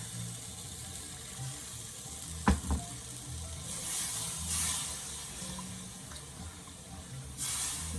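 Water is poured into a pot of sautéed cremini mushrooms for soup and stirred, giving a soft sizzle and hiss, with a couple of sharp scrapes from the spoon, heard alone and fairly quiet.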